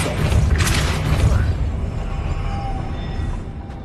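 A Depulso spell cast in the video game Hogwarts Legacy: a deep booming blast with a mechanical rumble right at the start, followed by a decaying whooshing tail and faint tonal effects.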